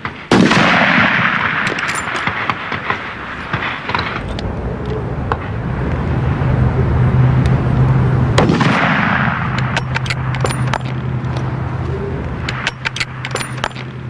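Competition rifle shot fired at a target with left windage dialed in, a sharp loud report near the start followed by ringing decay, then another loud bang around the middle, over steady outdoor background noise.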